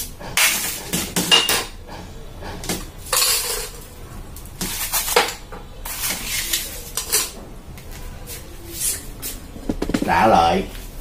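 Ice gets knocked apart with a hammer, several sharp clinking and cracking hits spaced unevenly, close and fairly loud, with a person talking in between.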